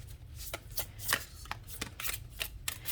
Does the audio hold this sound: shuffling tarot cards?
yes